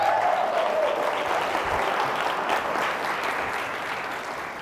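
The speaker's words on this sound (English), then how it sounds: "Give Ariana a little bit of a clap." Warm applause from a gathered crowd at an evening event, dense and close at first, then gradually tapering off toward the end.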